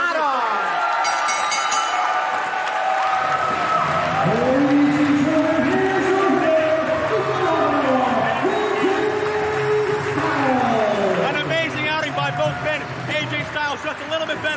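A wrestling crowd at an International Wrestling Cartel show roars continuously after a Styles Clash, a loud sustained din of cheering with excited commentary running over it.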